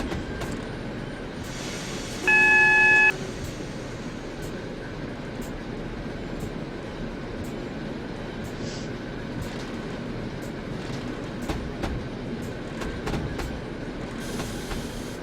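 A Class 73 electric locomotive in BR Blue livery runs on the Chatham Main Line near Brixton in Train Simulator 2016. It makes a steady rolling rumble with faint clicks and a short high warning tone early on.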